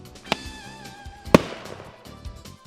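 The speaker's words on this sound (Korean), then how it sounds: "원격 조종으로 드론에 장착된 폭죽을 터뜨리기도 합니다." Firecrackers mounted on a remote-controlled bear-deterrent drone in Gifu, Japan, set off outdoors: two sharp, loud bangs about a second apart, each trailing into a short echoing rumble.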